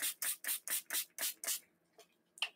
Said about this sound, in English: So spray it out.